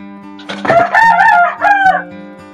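Tame pet sun conure parrots kept indoors for breeding give loud, close, harsh harmonic calls in three quick bursts over a low steady background hum.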